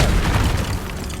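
Confringo fire spell blast in Hogwarts Legacy, a deep booming explosion rolling out over a second with dense low rumble and crackling debris, loud and close.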